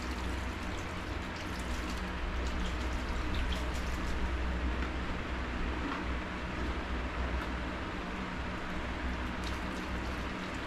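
Water pours steadily onto a mixed potting soil for winter plants, making a continuous dense splashing and patter close by, with no talking.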